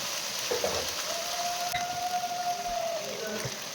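Spice paste for a soybean and potato curry sizzles and fries in a pan, giving a steady, close crackling hiss with no talking.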